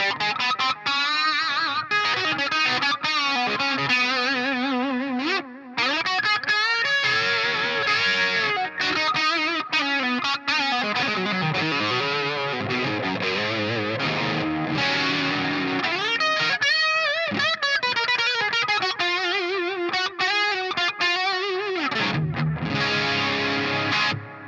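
Electric guitar with P90 pickups played through heavy distortion on a Helix, dense sustained chords and riffs ringing continuously at full level for the whole stretch, close and loud with no talking.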